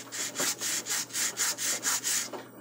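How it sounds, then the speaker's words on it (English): Sandpaper rubbing an acoustic guitar saddle in even, steady back-and-forth strokes, about nine regular passes close up with no talking. "So I'm going to go ahead and keep sanding here."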